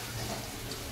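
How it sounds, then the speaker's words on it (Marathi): Water poured in a small amount into onion-garlic masala for Maharashtrian chicken keema, a brief soft splashing trickle heard close up with no voices. "थोडं पाणी टाकलंय त्याच्यामध्ये"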